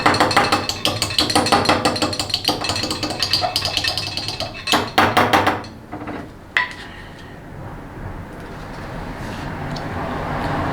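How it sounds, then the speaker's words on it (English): Metal tapping and clinking on a transmission valve body as a valve is worked into its bore with a screwdriver, with rapid light taps in clusters before fading to quieter handling noise. "minimal persuasion with something like a screwdriver and, you know, tapping on it is fine"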